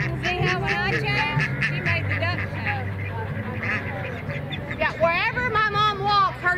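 Ducks quacking and honking in a noisy flock as a herding dog works them at the 1836 Chuckwagon Races, with people talking throughout over the steady bird chatter.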